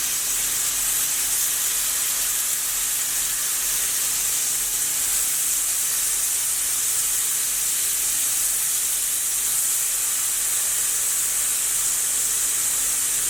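Tofu pieces sizzle in oil in a non-stick pan, a loud, steady hissing and crackling that holds evenly without pause and no talking over it.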